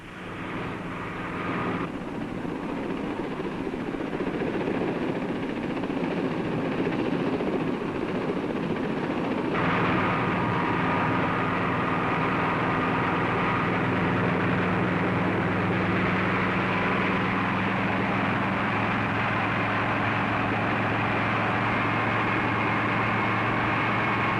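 A helicopter flying low, a continuous droning engine and rotor hum that holds steady and fairly loud throughout, with a brief shift in tone partway through and no talking.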